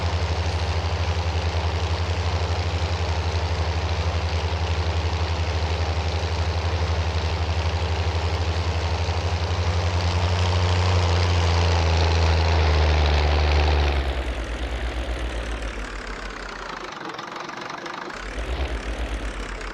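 A tractor engine in Farming Simulator 19 drones steadily and loudly on a rough field, then drops to a lower, quieter idle near the end, with no talk over it.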